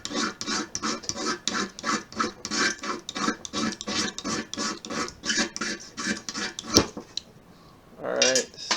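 A ferro rod fire starter scraped repeatedly to strike off small shavings, making close, rhythmic metallic rasps, about two strokes a second, before pausing near the end, when a voice briefly speaks.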